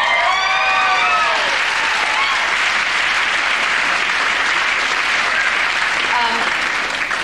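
Sustained applause from a comedy awards show audience, a dense, steady wash of clapping that stays loud throughout with a few voices faintly audible over it.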